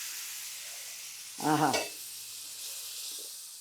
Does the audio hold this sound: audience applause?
no